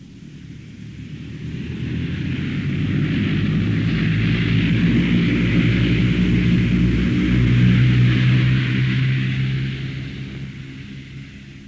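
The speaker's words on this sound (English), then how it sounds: "in no time the plane was taking off." A loud jet engine roar swells up, holds steady with a low rumble and hiss, then fades away as the plane takes off.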